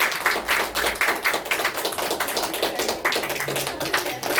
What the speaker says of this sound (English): Give a huge round of applause for Karan